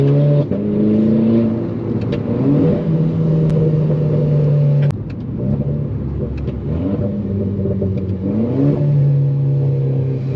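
A Renault 4 RS Trophy engine drops through the gears as the paddle is held, several distinct stepped changes in engine pitch with blips between them, loud and close, with a steady rumble underneath.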